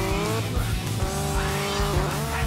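A car in GTA Vice City Stories revs hard as its tires squeal and skid, a loud continuous engine whine with shifting pitch and no talk.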